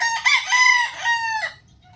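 Chickens pecking at termites crow and cluck loudly and close by, with one long rooster-like call followed by a quieter tail, and no talking.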